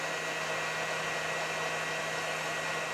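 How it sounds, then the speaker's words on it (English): An electric mixer whisks meringue for strawberries and cream macarons, giving a steady, unbroken motor whir with a constant hum, close and even throughout. "I want to whisk that meringue to 50 degrees."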